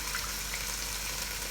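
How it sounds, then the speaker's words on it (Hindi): Water pours steadily into a cooking pot of meat and potatoes for an aloo gosht curry, a continuous splashing rush heard close and alone. "अब हम पानी ऐड कर रहे हैं।"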